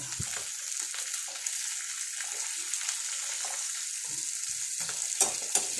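Chicken fries in hot oil with a steady, fairly quiet hiss and a few faint scrapes and knocks near the end, close by with no speech.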